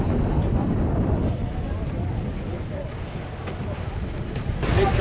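A boat on a sailing trip, with strong wind buffeting the microphone and a steady rush of water and hull noise throughout, loud and close, while a person talks over it.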